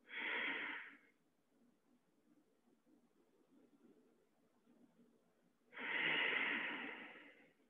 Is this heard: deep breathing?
yes